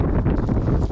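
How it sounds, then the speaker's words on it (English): Strong wind blows across an exposed hilltop ridge line, buffeting the microphone with a loud, continuous low rumble for a brief moment. "it's also very windy up here."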